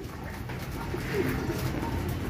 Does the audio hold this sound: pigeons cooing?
yes